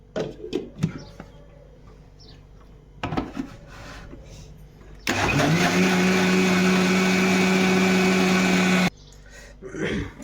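A kitchen mixer grinder blends ripe white mango pulp into juice, a loud steady whirring drone for about four seconds in the middle, framed by clatter of dishes and utensils before and after.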